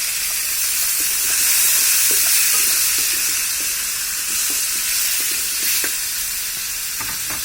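Mango pieces for pickle hit hot oil in a pan with crushed garlic, a loud, steady sizzling hiss with scattered small pops and crackles throughout.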